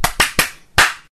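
Four sharp hand claps, close and loud, with a short uneven pause before the last one.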